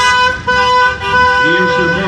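Support vehicles at the start of a stage cycling race sound their horns together in a loud, sustained chorus of overlapping honks, close by, with voices faintly underneath.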